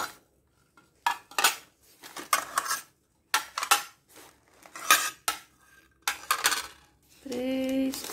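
Beaten aluminium pots and lids for a wood-burning stove clatter and clink as they are handled, in a string of separate metallic bursts with short pauses between. A brief ringing tone closes the sequence.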